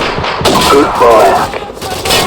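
A minigun rattles in Call of Duty 4: Modern Warfare, a loud, close, continuous stream of rapid shots across the whole stretch, with a whirring mechanical edge.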